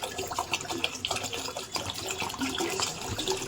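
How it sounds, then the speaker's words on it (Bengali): One litre of water is poured from a plastic Thums Up bottle, giving a continuous close splashing gurgle of running liquid throughout. "এই এক লিটার জল আমি দিলাম"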